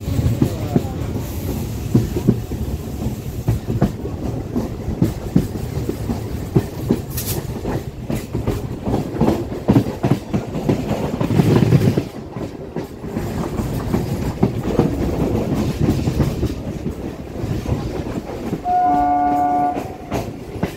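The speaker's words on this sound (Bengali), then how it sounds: "লক্ষ্মীকান্তপুর থেকে সকাল 6টার সময় ট্রেন ছাড়লো কাকদ্বীপ যাওয়ার উদ্দেশ্যে" A local train runs from Lakshmikantapur toward Kakdwip on a foggy winter morning, its wheels clattering rhythmically over the rails up close, with a short horn blast near the end.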